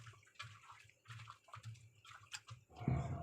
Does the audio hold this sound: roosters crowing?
no